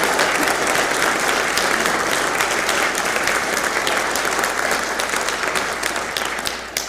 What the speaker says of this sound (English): Could you just give her one more round of applause?